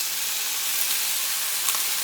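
Marinated pork al pastor sizzles loudly in a hot pan, a dense, steady hiss close to the listener with occasional faint pops and no one talking.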